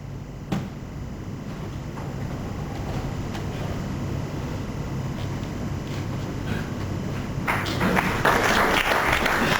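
Audience applause at a 2007 World Championship snooker match between Ronnie O'Sullivan and Neil Robertson, a soft continuous patter in a large hall that swells louder near the end.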